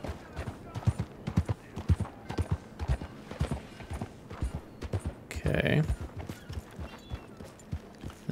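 Steady clip-clop of horse hooves at a walking pace in Red Dead Redemption 2, repeating evenly throughout, with a brief burst of noise partway through.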